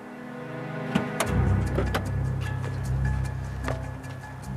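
An old, worn-out car's engine cranks and turns over, with a few sharp clicks and knocks before a low rumbling idle settles in and holds steady, close and moderately loud.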